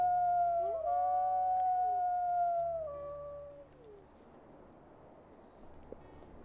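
A wolf in a wolf video game lets out a long, wavering howl that rises and bends over several seconds, then fades into quiet background ambience.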